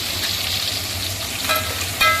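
Small onions sizzle steadily in hot oil for a fish curry, a continuous close frying hiss with a couple of sharper stirring clatters near the end.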